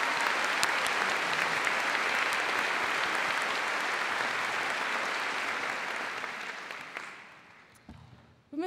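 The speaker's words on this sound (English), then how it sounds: "join me in giving our talented musicians from Birmingham Conservatoire, directed by Professor Chris Holding, a warm round of applause" A graduation ceremony audience gives a warm, sustained round of applause for Birmingham Conservatoire student musicians, dense and steady for several seconds before thinning out and fading near the end.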